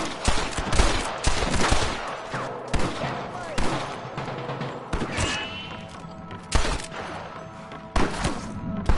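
Dense bursts of gunfire in Red Dead Redemption, played on PS5, crack loudly and repeatedly across the whole stretch, with heavy overlapping shots and brief lulls between volleys.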